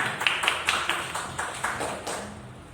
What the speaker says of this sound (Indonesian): tepuk tangan buat SD Gulungan